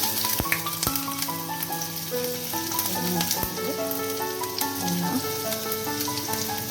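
Ginger sizzling as it fries in a hot pan while cooking fish noodles, a steady close crackling hiss throughout with small pops and a few clinks of a utensil.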